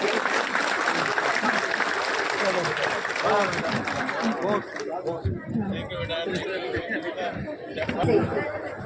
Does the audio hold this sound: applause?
yes